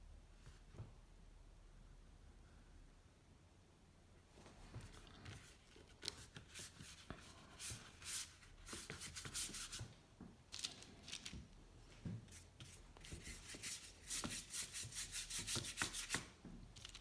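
Thick blue paint worked onto canvas with a brush, soft close rubbing and scrubbing strokes in irregular bursts that grow busier and more frequent, with no talk.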